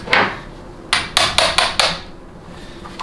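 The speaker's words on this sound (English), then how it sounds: "I'm just going to use a hammer with an impact driver just to break them loose" One sharp metal strike, a pause, then four quick hammer blows in a row on an impact driver loosening bolts on a Dodge 48RE transmission, loud and close, with a faint tap at the end.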